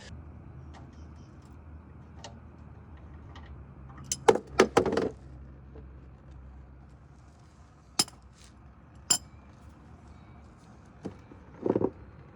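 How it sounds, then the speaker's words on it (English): Metal sump plug being unscrewed by hand from a Toyota Land Cruiser 75 Series during a DIY oil change: a brief cluster of close metallic clinks and scrapes, then a few isolated ticks and clunks against a quiet garage background, with no talking. "that was really easy to take the sump plug off"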